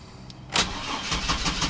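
A GMC Jimmy's engine cranks close by with a weak battery, a short burst of churning starter noise followed by a few uneven pulses as it struggles to catch.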